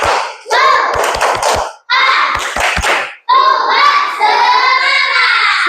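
A class of children chants together in rhythm, punctuated by quick bursts of unison hand claps, three or four sharp claps per phrase, loud and close.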